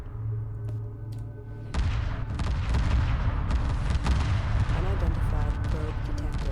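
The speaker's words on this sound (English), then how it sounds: "Look at the damage those missile corvettes do." Missile corvettes fire volleys during a space battle in the strategy game Homeworld Remastered, a dense roar of repeated launches and booms that builds suddenly after a quieter opening, with voices faintly underneath.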